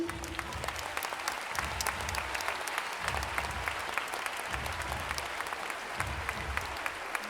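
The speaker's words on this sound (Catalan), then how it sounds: "demano un fort aplaudiment per ells" Crowd applause at a school end-of-year party fills the room in a dense, steady wash of clapping that holds for several seconds at a moderate, slightly distant level, swelling and easing gently.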